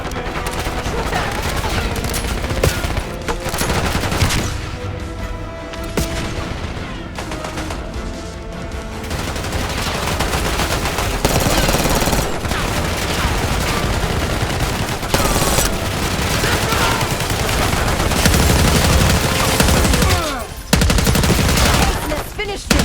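Sustained bursts of automatic gunfire crackle through a Call of Duty Black Ops 6 campaign firefight, dense and loud, with crashing impacts and a voice speaking briefly amid the shooting.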